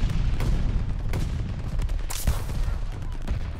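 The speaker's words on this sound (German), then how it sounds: "Werfe eine Granate." Continuous rattling gunfire with heavy booms and a grenade blast in the Call of Duty Vanguard team deathmatch, dense and loud throughout.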